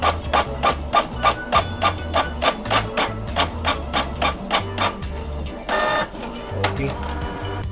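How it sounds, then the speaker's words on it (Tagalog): A desktop printer printing a tattoo stencil runs with a rapid series of rhythmic mechanical clicks and thumps, a brief whirring pause midway, and a low motor hum underneath. "So ipiprint na natin siya dito sa printer natin."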